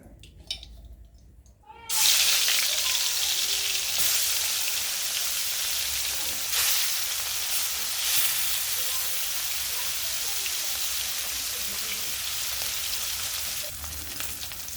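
Loud, steady hiss of mustard oil sizzling in a hot wok, starting abruptly after a quiet moment and continuing unbroken close by.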